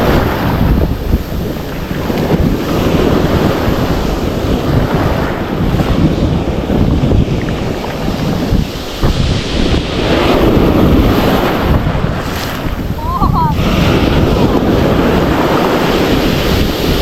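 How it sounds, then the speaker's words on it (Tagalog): Big ocean waves rolling and crashing around a small fishing boat at sea, a steady loud roar of surf mixed with heavy wind buffeting, with no talk. "Dahil na ang laki ng alon."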